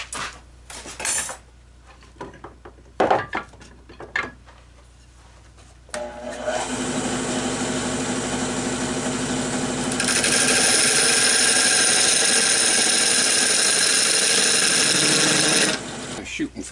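Wood lathe spinning an oak bowl blank, with a tool cutting a tenon on the base: after a few knocks and handling sounds, a steady loud whirring cut starts and grows brighter and harsher, then stops abruptly.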